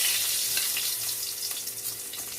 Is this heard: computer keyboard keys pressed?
no